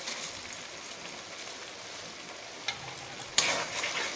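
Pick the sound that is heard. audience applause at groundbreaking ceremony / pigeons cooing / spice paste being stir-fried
spice paste being stir-fried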